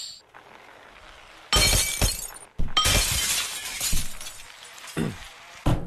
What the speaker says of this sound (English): we're breaking some glass